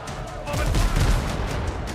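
Ship cannons fire in a naval battle in the video game Windrose, a dense burst of overlapping booming shots rolling together for about two seconds, loud and close.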